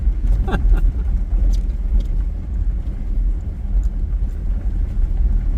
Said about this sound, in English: the vehicle is called an all-terrain vehicle, right? ATV.